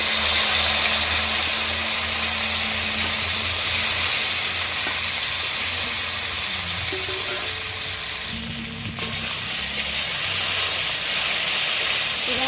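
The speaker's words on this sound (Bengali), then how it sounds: "গরম তেলের ওপরে নুন হলুদ মাখানো ভেন্ডিগুলো দিয়ে দেব" Okra coated with salt and turmeric fries in hot oil, a loud, steady sizzle and hiss close by that runs the whole time with faint low hum beneath.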